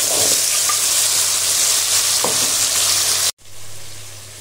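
Tomato goes into hot oil with cinnamon and bay leaf in a wok over a high gas flame, giving a loud, steady sizzle with faint stirring that cuts off abruptly near the end, then resumes more quietly.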